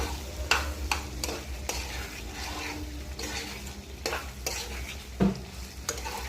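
Paneer and green chillies fry in a pan for a white paneer korma while a spoon stirs them. Soft sizzling runs under repeated, uneven scraping strokes and a few sharper knocks, all close by.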